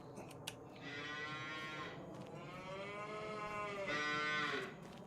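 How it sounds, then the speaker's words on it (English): Cows in a field moo repeatedly, several long drawn-out lowing calls in sequence, moderately close and otherwise alone. "the cows are yelling at me to get out of the field"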